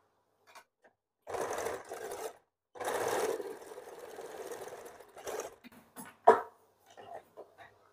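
A sewing machine stitches the shoulder seam of a blouse in several bursts of steady whirring, starting and stopping with short pauses and a sharp clack near the end, close and clear, without talk.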